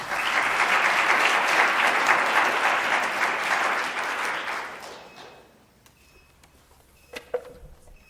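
A room at a public works committee hearing breaks into loud, dense clapping that holds for several seconds and then dies away into near quiet, followed by a couple of faint knocks.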